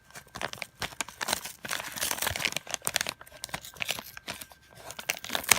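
Crinkly plastic or paper packaging being torn open by hand around a mailed parcel of washi tape and Bible journaling supplies, with continuous close rustling, crackling and ripping bursts and no talk.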